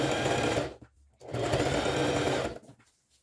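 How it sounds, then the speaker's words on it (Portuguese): A sewing machine stitching the side seams of a patchwork dish towel, two close bursts of fast, steady mechanical whirring and needle chatter separated by a short pause, then a quiet run-down. "vou começar passando a costura aqui nas laterais"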